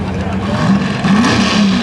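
A Chevrolet-powered Pro Stock 4x4 pulling truck roars at a truck-and-tractor pull in western Pennsylvania. The engine is loud and strained, with a wavering, surging note throughout this brief burst.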